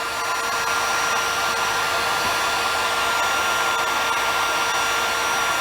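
A hair dryer blows steadily and loudly at close range to dry a refinished wooden gun stock, a continuous whooshing roar without any pause.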